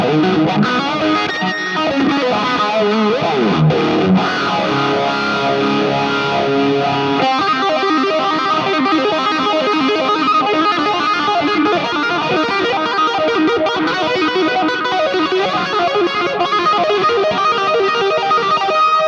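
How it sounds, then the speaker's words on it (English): Electric guitar played continuously through a HeadRush Plexi amp model with EL34 mod, overdrive, phaser, delay and reverb: loud, distorted, sustained chords and riffs with swirling modulation and echo tails. "I'm now the Plexi, yes, with the EL34 mod. Overdrive still on, I've got a bit of phaser, delay, and changed the reverb."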